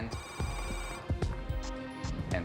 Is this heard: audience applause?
no